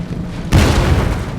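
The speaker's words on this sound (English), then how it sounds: "Artillery! Here we go." A single heavy boom of artillery fire from the Empire: Total War battle game, a sudden loud blast that rolls off over about a second after quieter background ambience.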